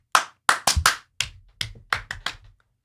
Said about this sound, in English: The clap, which is...